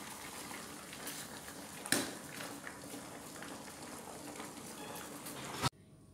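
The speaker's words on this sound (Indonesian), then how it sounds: "Ini kita rebus bayamnya sebentar aja, karena bayam itu kan memang cepat matangnya." Spinach boiling briefly in a pot on a home stove, a steady, fairly faint bubbling hiss that runs evenly before cutting off abruptly near the end.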